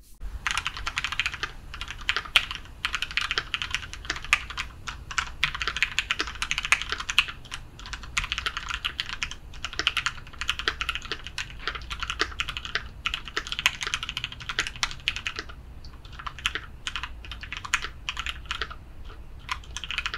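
Continuous fast typing on a custom mechanical keyboard fitted with JTK Purple on White keycaps, with crisp, close, rapid keystroke clicks and no voices.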